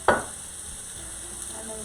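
A spoon knocks once against a pan while pepper flakes, Italian seasoning, garlic powder and complete seasoning are stirred together for shrimp alfredo. A faint, steady sizzle continues underneath.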